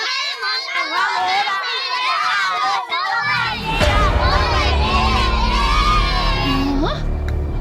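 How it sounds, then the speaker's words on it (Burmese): A crowd of children shouts and cheers loudly and continuously, voices overlapping in a noisy, excited din. "ဒီကလေးတွေကလည်းစူညံညာပဲ"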